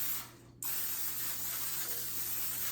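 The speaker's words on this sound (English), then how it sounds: "I am going to spray the trays with some non-stick cooking spray because I don't want my meatballs to stick in the pans" Non-stick cooking spray hisses steadily from an aerosol can onto baking trays for meatballs, one short burst followed by a longer continuous spray, close and fairly loud with no talking.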